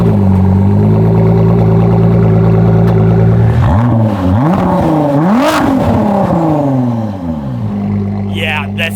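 Ford GT EcoBoost V6 engine idling then revving hard several times in rising and falling sweeps before settling back, loud and close from the cabin, with voices talking over it.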